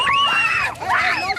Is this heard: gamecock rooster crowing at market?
no